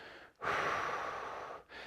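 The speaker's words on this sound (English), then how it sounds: "When you're breathing out, you want to try and breathe out through a pursed lip." A Pilates exhale through pursed lips gives one long, close, breathy hiss that lasts about a second. A short intake sits before it and another breath begins right after.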